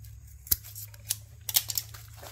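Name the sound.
scissors cutting ripcord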